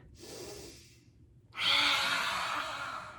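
Two forceful exhaled breaths during a children's yoga exercise, imitating a dragon breathing fire: a softer first puff, a pause, then a longer, louder rushing blow, close to the microphone.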